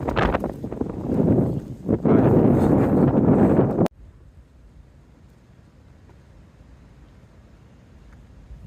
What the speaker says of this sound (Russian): Ветер очень холодный, 1 градус.